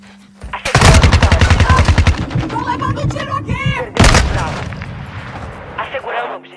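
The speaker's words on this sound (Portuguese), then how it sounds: "Tô levando um tiro aqui!" Rapid automatic gunfire and heavy blasts in a shooting video game, loud and close, with a burst of rattling shots, a sharp explosion midway and game voice lines over the action.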